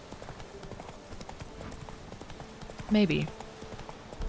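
Horse hooves clip-clopping at a steady trot-like rhythm in The Witcher 3: Blood and Wine, continuous and moderately close, with a brief louder burst and a voice speaking over it partway through.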